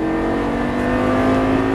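A Lamborghini Gallardo LP 560 on a track at full throttle, its engine roaring loud and close with a steady rising whine through the short burst.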